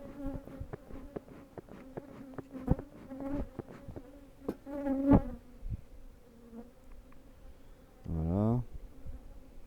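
Honeybees buzz around an open beehive being inspected, their fluctuating drones passing close by with sharp spikes as individual bees fly past, and a brief voice near the end.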